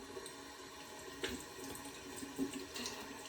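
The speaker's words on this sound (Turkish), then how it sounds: "Önce yüzümü yıkadım." Water runs steadily from a tap into a sink during face washing as part of a skincare routine, a continuous close splashing hiss with a few brief louder splashes and no talking.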